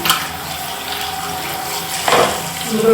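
Hands being washed under a running tap at a sink, a steady stream of water with splashing and brief bursts as the hands move through the flow.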